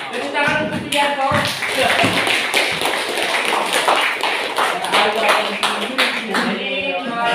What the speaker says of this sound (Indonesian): Tepuk tangan untuk Julianto.